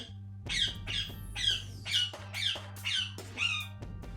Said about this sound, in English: That's my bird Petrie.